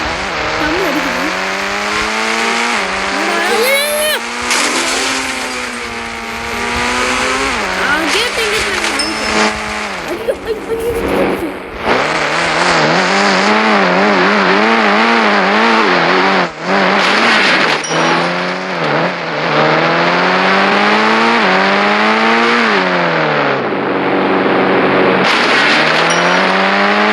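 An engine revs and whines through rising and falling gear shifts in the mobile game Indian Bikes Driving 3D, with tire squeals and skids. It is loud and continuous, with brief drops in pitch between runs.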